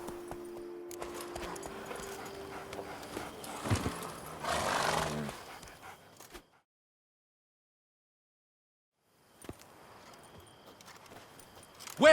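Roach, the horse in The Witcher 3, neighs and gallops with hoofbeats and a whinny-like cry amid game ambience, followed by a stretch of silence and then quieter background sound.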